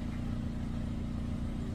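A drain jetter engine running steadily during fatberg clearing on a blocked drain, a loud, constant low mechanical drone with no breaks.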